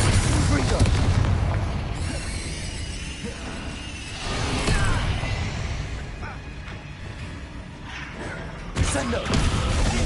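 A Bombarda spell blast in Hogwarts Legacy booms over a busy fight soundscape, with several heavy bursts and shattering debris, including a sharp loud hit near the end.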